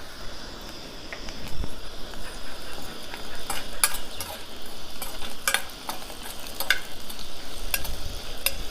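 Red chillies and cumin seeds fry in a small amount of hot oil, giving a steady close crackle and sizzle with faint stirring throughout and no talking.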